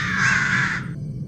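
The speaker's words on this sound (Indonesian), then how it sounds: "gagak-gagak ini kembali bersuara dan ribut" Crows caw noisily, one harsh drawn-out call loud and close over a low background rumble.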